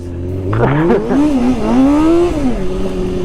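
A Suzuki GSX motorcycle engine revs up close and loud, pitch climbing sharply, wavering and holding high before dropping back to a steady idle.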